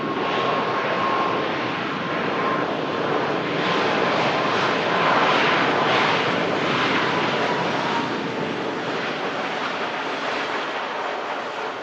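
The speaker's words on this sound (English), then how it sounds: "Just about to touchdown is a Ryanair Boeing 737 MAX 8200 from Cologne in Germany" A Ryanair Boeing 737 MAX 8-200 from Cologne settles onto the runway, giving a steady, moderately loud jet roar that swells around the middle and eases slightly toward the end, with no voices.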